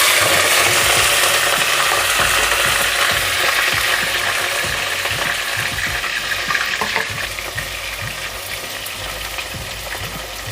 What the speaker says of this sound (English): let me chop up some onion while I'm frying the chive